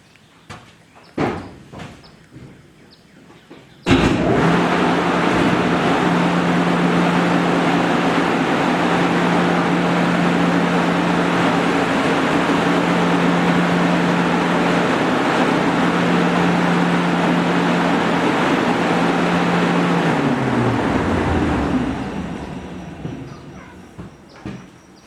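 Intake and exhaust fans of a finished home-built paint booth switch on, then run with a loud steady whoosh and low hum for about sixteen seconds before spinning down and fading.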